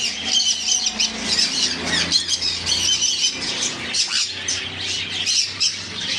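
Pet birds such as lovebirds, white peachfaces and conures squawk and chirp continuously in a crowded bird shop, a dense, shrill chorus of overlapping calls filling the whole stretch with no talking.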